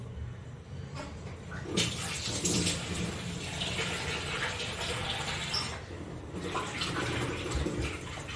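Water runs and splashes steadily close by, a rushing, gurgling flow with a brief louder surge partway through and a short drop in level near the end, with no voices.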